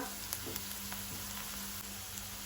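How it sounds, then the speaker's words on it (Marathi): Chopped onion sizzles and fries steadily in oil in a pan for Goan bread upma, a constant close crackle with a few faint stirring scrapes and no speech. "पळयात आतां कांदो आमचो तळसून जाला।"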